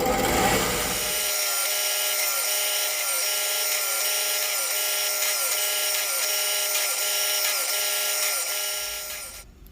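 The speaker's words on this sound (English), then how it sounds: "I will drill in till my drill bit starts to smoke, and then I will stop, add more oil." A power drill whines steadily as its bit bores into material, with a rising and falling pitch that pulses rhythmically before winding down.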